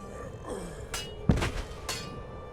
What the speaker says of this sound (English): there's a new body thump sound when a corpse hits the ground